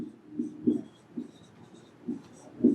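Chalk or a marker writing on a board gives soft, scratchy strokes in short, irregular bursts, close up and with no voices.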